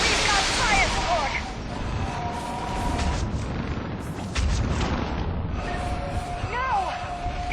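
Artillery fire support in the video game Mass Effect 3, with heavy rumbling booms and explosions over a loud battle din, mixed with whooshing and sweeping game effects.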